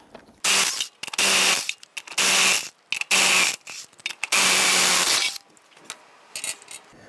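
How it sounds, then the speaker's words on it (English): A 19mm socket working lug nuts loose and off the front wheel of a 1999-2004 Jeep Grand Cherokee, heard as several long loud grinding, ratcheting bursts separated by short pauses, close up with no voices. "Using your 19mm socket, loosen and remove the lug nuts"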